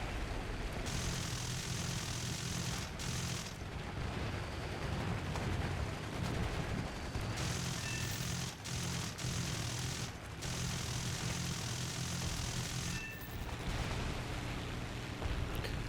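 Continuous loud, dense blasts and rumbling booms with rapid gunfire-like cracks in the War Thunder video game, including a vehicle hit by anti-tank ammunition exploding, a chaotic battle din with no pauses.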